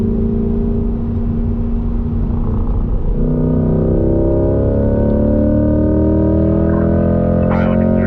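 Chevrolet Corvette engine heard from inside the car during hot laps at the Ron Fellows Corvette Owners School: a loud, continuous roar that rises steadily in pitch as the car accelerates through the gears, with heavy in-cabin rumble.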